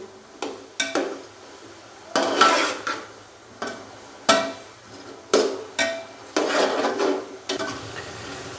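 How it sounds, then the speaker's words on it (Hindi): Potatoes and peas stirred and fried in a pan for a vegetable pulao, a spoon scraping in repeated close strokes with soft sizzling between bursts. "पहले आलू और मटरों को अच्छे से भून लेंगे"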